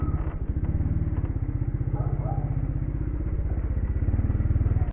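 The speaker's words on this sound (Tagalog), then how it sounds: "Ikot ko lang yung motor." Motorcycle engine idling and revving steadily at close range with a rhythmic low-pitched chug while the rider turns the bike around outside a closed church in Bulacan; faint clatter is heard underneath.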